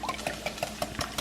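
A whisk beats eggs and milk in a bowl for a breakfast casserole, making quick, rhythmic taps and clicks against the side at close range, with no voices.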